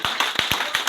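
A book launch audience starts clapping for the author Pratibha, with about five or six distinct, fairly sharp claps in a loose rhythm over under a second, close and clear.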